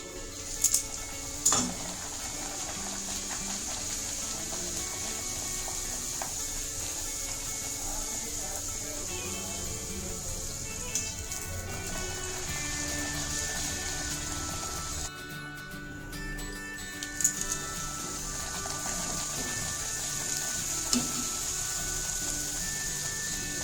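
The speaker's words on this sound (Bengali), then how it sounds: "এক এক করে এবার ভেজে নেব" Rolled dough pieces frying in hot oil, one at a time, during home cooking for a Shivratri festival meal: a steady, soft sizzle runs throughout, with a few brief clinks of a utensil against the pan.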